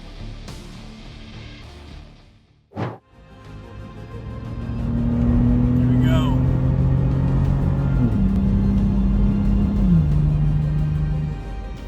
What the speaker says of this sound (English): So brave Mike Olbinski drove straight into a giant dust storm, turning an Arizona highway into a dramatic movie set.